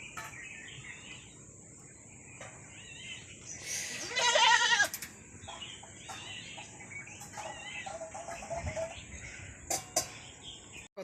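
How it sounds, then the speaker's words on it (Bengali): Goats standing out in the hot sun bleat faintly and intermittently outdoors, with one louder, rougher bleat in the middle, over a thin bed of insect buzz and distant bird calls. "তো আমাকে ছাগলগুলো এখানে রোদে আছে"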